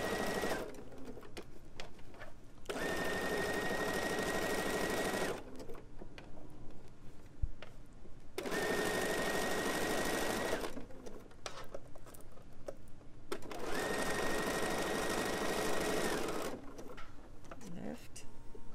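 Bernina sewing machine fitted with foot 3C stitching elastic, running in three steady bursts of a few seconds each with short pauses between, close and fairly loud, a voice talking quietly in the gaps.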